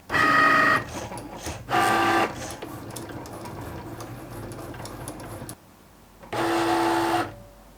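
A Cricut Maker cutting machine working a loaded mat, with loud bursts of motor whirring separated by quieter stretches of clicking and mechanical movement, close and without talk.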